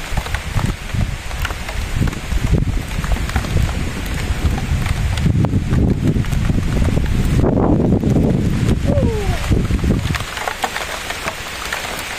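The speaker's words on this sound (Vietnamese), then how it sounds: "mưa mưa tới rồi các bạn" Steady heavy rain pours outdoors in the Vietnamese countryside, a dense loud hiss with gusty wind buffeting the microphone throughout, easing slightly toward the end.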